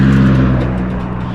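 A car with no muffler rolling past on a road, its loud, raw engine drone close and sustained, fading slightly as it moves on, with no voices.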